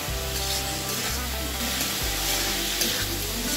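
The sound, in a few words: potatoes and elephant foot yam sautéing with spices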